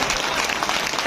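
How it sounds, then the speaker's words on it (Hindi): Brief burst of dense, steady audience clapping at a Hindi poetry gathering in a college hall, welcoming a poet, loud and close with no talking. "जोरदार तालियों से उनका स्वागत किया जाए"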